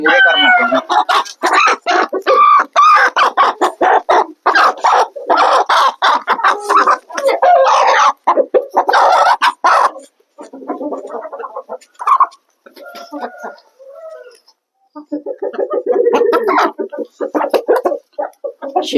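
Hens cluck steadily in a dense, busy chorus, with louder bursts early and a few sparser calls midway before the clucking picks up again.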